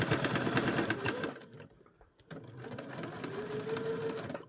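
Sewing machine stitching a bodice lining, running steadily in a close, continuous whir, pausing briefly near the middle before starting up again and carrying on to the end.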